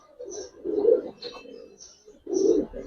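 Giribaz and Pankhi pigeons coo in short throaty bursts, two main swells of low burbling calls a moment apart, fairly close with a quiet room behind.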